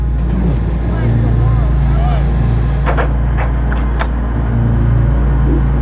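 A rally car on the Dallas Mountain downhill stage rumbles with a loud, steady engine drone, while a narrator talks over it.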